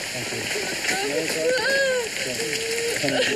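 Rain splashes and patters steadily nearby with a constant watery wash, while voices speak over it.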